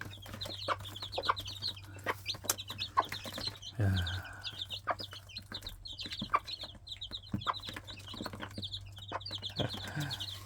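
A flock of chickens clucks continuously in soft, busy bursts while pecking at banana and fruit peels, close and moderately quiet, with occasional rustling and a low steady hum underneath.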